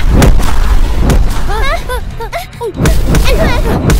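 Gunfire in a Vietnamese comedy drama scene: loud, close bangs at the start and again near the end, with high whistling, chirping effects in between.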